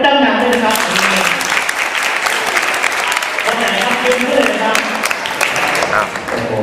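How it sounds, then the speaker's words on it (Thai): Children at a Buddhist morality camp clap loudly and steadily for a student, a dense crowd applause with voices talking over it. "เสียงปรบมือให้กับเขาคนนั้นดังๆเลยนะครับ"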